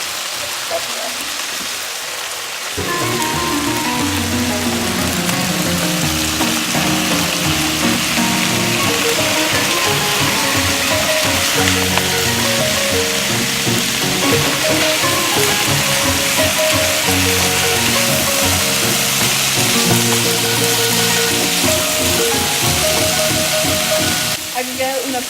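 Vegetables and proteins such as meat and chicken are stir-fried for chaufa rice, a loud, continuous sizzle and crackle that starts abruptly after a brief quiet moment and carries on steadily to the end.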